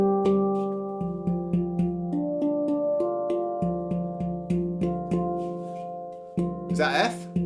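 A handpan struck repeatedly in a steady rhythm, each clear ringing tone decaying before the next, with a short burst of noise near the end.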